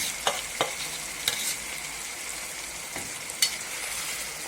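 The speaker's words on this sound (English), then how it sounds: "We will saute it nicely. Make sure that the rawness is completely over." Onion paste sautés in a pan for a white gravy, giving a soft, steady sizzle with a few sharp clicks of stirring against the pan, heard alone and fairly quiet.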